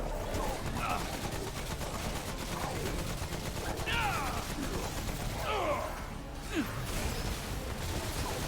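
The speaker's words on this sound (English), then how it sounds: "They're just shooting him" Gunfire rattles in Remnant: From the Ashes survival mode, scattered shots and short bursts mixed with whooshing creature sounds and impacts at moderate volume, with a voice talking over parts of it.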